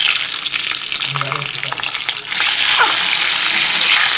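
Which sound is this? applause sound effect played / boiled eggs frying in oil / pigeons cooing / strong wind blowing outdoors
boiled eggs frying in oil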